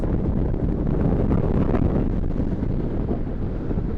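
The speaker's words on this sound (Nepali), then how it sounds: "कस्तो हावा लाग्यो यार" Strong wind blows hard at the sea shore, a steady, loud roar buffeting the microphone for the whole stretch, with no voices.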